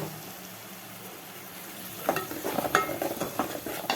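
Ground tomato and onion paste going into a hot pan over sautéed ginger-garlic paste, bringing a soft steady sizzle that swells into louder, crackling frying with scattered stirring scrapes partway through.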